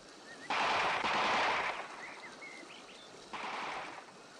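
Soldiers' gunfire in a wartime setting: loud broadband bursts of rapid shots over about a second, a brief pause, then another long burst, with quieter chirping sounds between them and a final shorter burst.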